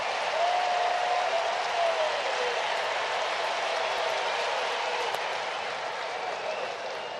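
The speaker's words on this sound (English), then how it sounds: "when the crowd starts to fire up like that" A crowd at a Phillies–Braves baseball game in Atlanta cheers and applauds in a dense, sustained roar of clapping and shouting that fades slightly toward the end, with a brief whistle-like tone early on.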